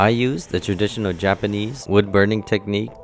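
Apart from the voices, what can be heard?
No distinct noise like a dog, phone or traffic.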